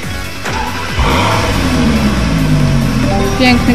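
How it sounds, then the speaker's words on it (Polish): A Lamborghini Gallardo engine in the Gran Turismo 5 video game revs loudly and climbs steadily in pitch, with a rising harmonic whine, while speech runs over it. "Piękny głos silnika"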